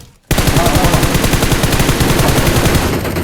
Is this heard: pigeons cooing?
no